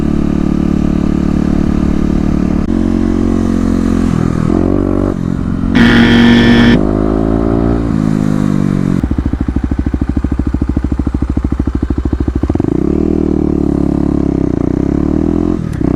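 A Kawasaki KLX250 motorcycle ridden through city streets in cold weather, its loud close engine droning steadily with rising and falling revs, a brief higher whine, then a lower throbbing idle before pulling away again.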